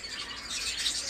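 Healthy pet breeding birds, such as parrots or cockatiels kept for sale, squawk and chatter in a brief, steady, hissy burst of calls close by.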